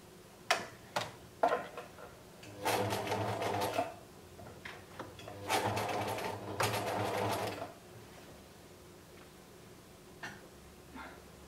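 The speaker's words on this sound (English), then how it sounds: "I'm now going to go ahead and sew all the way around up the top here" A domestic sewing machine stitches around the top waistband of homemade boxer shorts in two sustained rapid runs, separated by short pauses and a few isolated mechanical clicks, close and clear with no talking.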